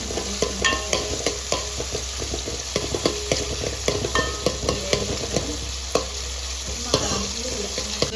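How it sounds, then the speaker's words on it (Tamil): Vegetables stirred in a hot pan for egg noodles: a steady close sizzle of frying with a regular rhythm of utensil scrapes and taps against the pan throughout. "வந்து நல்லா கிண்டி விட்டுக்கலாம்."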